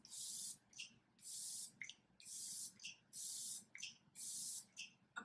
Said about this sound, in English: face spray, I'm going to use the Fresh Vitamin Nectar Mist.